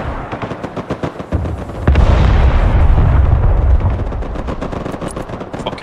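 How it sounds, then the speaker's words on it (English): Heavy artillery fire in the war video game Broken Arrow, a dense rumbling barrage of loud booming explosions and rapid gunfire bursts that swells midway and keeps rolling with scattered sharp pops. "Artillery, ready to fire, sir!"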